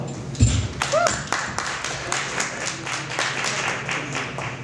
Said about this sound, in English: Big round of applause for Holly